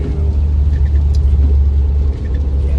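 A Mitsubishi Evo X, a car with worn tie rods, rumbles through an acceleration pull. The engine sound is close, loud and steady, with a heavy low drone and no voices.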